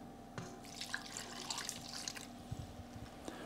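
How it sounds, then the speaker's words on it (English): Cooking liquid poured into the bottom of a roasting tray for a honey-glazed ham, a soft splashing trickle with scattered drips, close and fairly quiet over a faint background hum. "I'm going to put a little bit of the cooking liquid"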